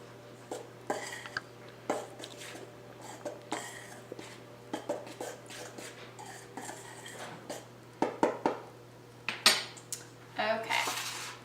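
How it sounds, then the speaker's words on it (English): A spoon mixes dry baking ingredients, including baking soda, in a bowl, making a string of soft scrapes and sharp clinks against the sides, close and irregular with no talk, over a faint steady hum. "And you're just going to mix this with a spoon."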